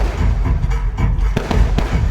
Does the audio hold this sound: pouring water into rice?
no